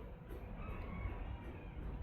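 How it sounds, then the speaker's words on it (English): A rooster crows faintly and at a distance under a steady broadband background hum, with no speech. "You hear my rooster?"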